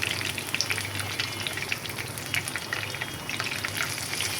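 An iftar snack deep-fries in oil, with a continuous bubbling sizzle and small crackles at a moderate, steady level and no talking.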